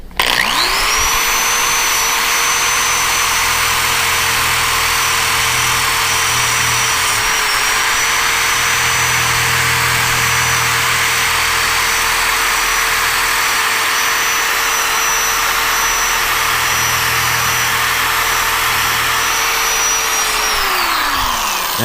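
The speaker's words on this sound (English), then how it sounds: "one of these metal brushes that you can attach to a drill, and you can run that across here" A power drill fitted with a wire brush whines loudly and steadily for about twenty seconds, close up, scrubbing paint off a screwdriver with a gritty undertone that rises and falls.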